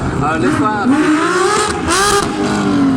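Rally cars at the 2021 Rally de Wallonie roar past with engines revving and rising in pitch, loud and close, one following another, while someone talks over the noise.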